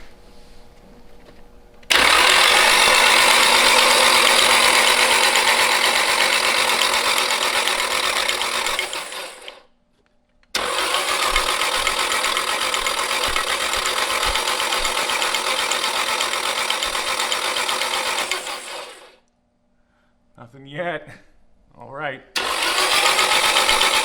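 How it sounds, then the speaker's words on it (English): The starter motor of an abandoned JDM sports car cranks its engine in two long, loud whirring bursts of about eight seconds each, separated by silence, with a voice speaking briefly before a final short crank. "So I'm going to try to just feed power directly to the starter itself."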